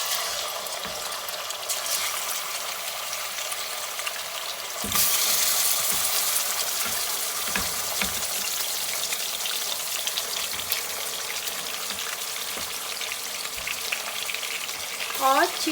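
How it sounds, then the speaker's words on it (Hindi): Chicken fries in about half to three-quarter cup of cooking oil for a white chicken karahi, with a loud continuous sizzle, occasional stirring clatter, and a sudden surge in intensity partway through. "चिकन को हम लोग इसका कलर चेंज होने तक फ्राई करेंगे"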